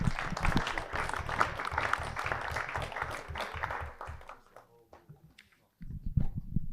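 A community council audience applauds in honour of an absent mayor, a steady round of many hands lasting several seconds before dying away, followed by a voice resuming.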